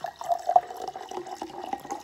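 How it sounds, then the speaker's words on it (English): Sparkling water is poured into a container, a close trickling, splashing flow with fizzy bubbling texture running steadily for a couple of seconds. "And then if I pour it in, let's see what happens when I pour it in."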